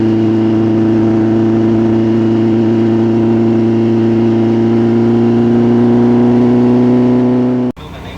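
A drag race car engine holds a loud, steady high-rpm drone with strong harmonics for nearly eight seconds during a pass, then cuts off abruptly near the end.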